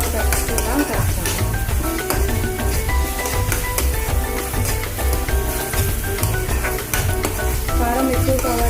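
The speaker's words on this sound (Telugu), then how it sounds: "దీని మొత్తాన్ని బాగా కలుపుగా కలుపుతాను." A Manchurian mixture is stirred in a hot pan, giving loud continuous sizzling with rapid scraping and clattering from the spoon throughout and no voices.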